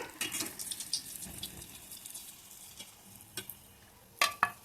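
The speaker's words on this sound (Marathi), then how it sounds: "तिळाची पोटली तळून घ्यायची आहे" Sesame potli dumplings for Makar Sankranti frying in hot oil, a soft steady sizzle with stirring and a couple of sharper clinks near the end, close and moderately quiet.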